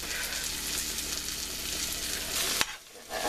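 General Tso's chicken frying in a pan with a modest amount of oil gives a loud, steady, close sizzle that cuts off sharply near the end after a brief click, with no talking.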